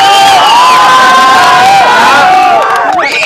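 Excited onlookers at a non-stop papad-eating challenge game cheer, whoop and shout together, a loud close wall of many voices that swells and then dips briefly near the end.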